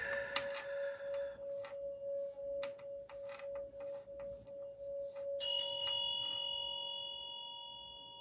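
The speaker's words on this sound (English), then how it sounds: "Cut the bells off, please." Metal bells ring during a guided meditation, struck repeatedly with bright clangs over a sustained tone, then a higher cluster of ringing tones swells and slowly decays, moderately close and alone without talk.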